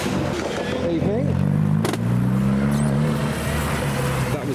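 A convoy of modified cars, including a Polo, a BMW 1 Series and a Golf, drives away from a wet car meet. Loud engines drone and rise as they pass nearby, with people talking over them.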